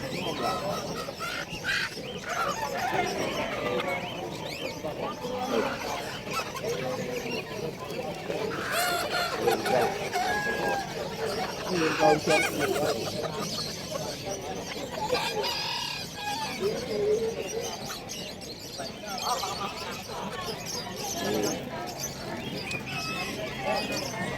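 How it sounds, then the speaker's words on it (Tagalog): Chickens, roosters and other birds at a pet market in Bulacan, with clucking and intermittent crowing over a busy market din and people talking nearby throughout. "Yung mga ibon, mga siso."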